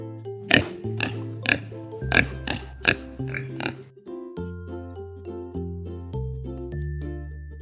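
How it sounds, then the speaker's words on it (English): A pig oinks in a few short grunting bursts over cheerful background music, each call brief and fairly close, with the music carrying on alone afterward. "Pig."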